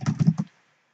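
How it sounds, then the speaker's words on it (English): Fast burst of computer keyboard typing, a handful of quick keystrokes clustered close together over half a second, then silence, recorded close and fairly loud with no talk. "I'm just going to type it out."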